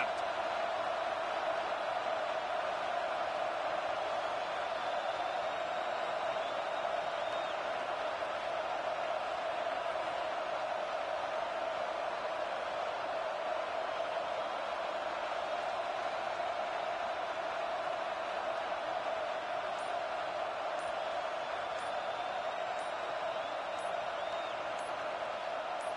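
Large stadium crowd at a Penn State versus Iowa college football game, a steady, sustained roar of many voices filling the space throughout, loud and continuous with no clear breaks.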